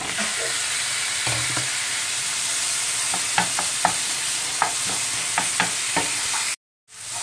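Tomatoes with red chili, coriander, cumin and garam masala powders frying in a pan for veg tawa pulao, a constant loud sizzle with a spoon scraping and tapping now and then, close, cutting to silence near the end.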